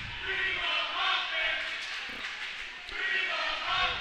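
A home crowd at a college ice hockey game roars and cheers in sustained waves, a broad wash of voices swelling and easing across the arena, fairly loud throughout.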